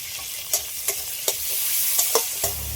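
Chopped onion and tomato with salt fry and sizzle in a pan under a steady hiss, while a utensil stirring the mix makes several sharp scrapes and taps. No one speaks.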